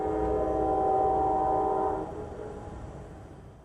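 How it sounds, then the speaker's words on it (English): Amtrak Sunset Limited passenger train passing westbound across Texas, its horn sounding a long steady blast before the call cuts off and the low rumble of the passing cars carries on. "Amtrak's Sunset Limited westbound"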